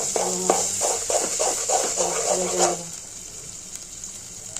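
Onions with ginger and garlic paste frying in a pan, a soft hiss with a rhythmic series of stirring scrapes that stop partway, leaving a faint sizzle.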